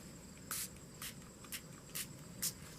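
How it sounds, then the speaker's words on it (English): Five quick, faint spritzes from a spray bottle, evenly spaced about half a second apart, over a quiet background. "Spray lightly, Possum Patty."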